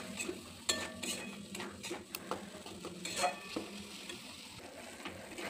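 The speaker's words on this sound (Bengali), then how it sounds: "ভালো করে মশলাটাকে কষিয়ে নেব।" Spice paste for a prawn malai curry frying in a pan with a little water, a spoon scraping and clinking against the metal over a soft steady sizzle, quiet and close.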